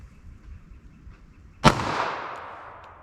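A single sharp shot from a .32 ACP pocket pistol cracks out nearby, loud and abrupt, followed by a short decaying echo over a quiet outdoor background.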